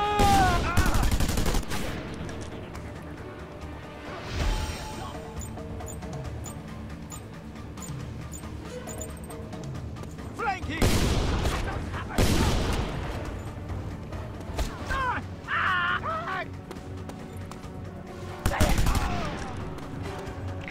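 Gunfire in Just Cause 2 as snipers open up, bursts of sharp shots and booming blasts separated by quieter stretches of game ambience and music, loud and close, with a voice talking over parts of it.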